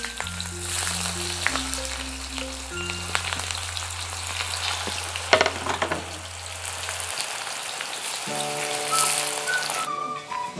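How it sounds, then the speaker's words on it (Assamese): Sliced onions fry in three spoons of hot oil in a kadai for chicken biryani, a steady close sizzle running throughout under faint background tones. "চকলকৈ কাটা পিঁয়াজখিনি ফ্ৰাই কৰি ল'লোঁ"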